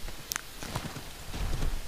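Horse hooves in the Assassin's Creed 3 video game, a quick run of clopping beats over a noisy game background, fairly close and brief.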